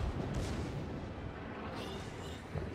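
The Yamato's main battery cannons fire in World of Warships as heavy, rumbling booms over a dense, continuous low battle roar, fairly quiet overall.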